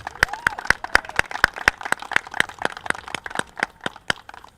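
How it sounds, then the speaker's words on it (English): Sharp, evenly spaced claps ring out at a school flag-raising event, about twenty crisp strikes in a steady rhythm, sounding like one or a few people clapping rather than a large crowd. "So Mike, I just want to give you a big round of applause."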